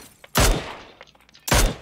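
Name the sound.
SKS rifle gunfire in a video game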